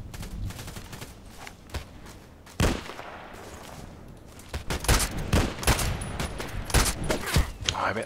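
A KS weapon fired in a video game: bursts of gunfire crackle in irregular volleys, starting moderate and growing louder and denser toward the end, with no talking.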